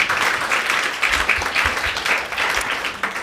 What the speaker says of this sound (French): Alors, on peut l'applaudir.